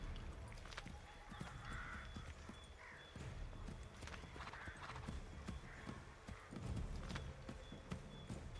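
Horse hooves clip-clopping steadily while riding in Assassin's Creed III Remastered, a soft continuous trotting rhythm under low game ambience with no speech.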